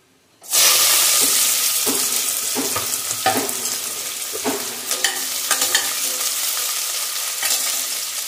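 Chopped onion and coriander hit hot tempering oil for Kolhapuri mutton, bursting into a loud, sustained sizzle with stirring scrapes that continues steadily after the sudden start.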